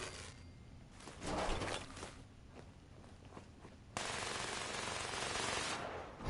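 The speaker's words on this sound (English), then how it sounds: "That sentry's like destroying our friend over there." A sentry robot in Fallout 76 opening fire: rapid bursts of automatic gunfire, sharp and loud, with a sustained harsh barrage in the second half.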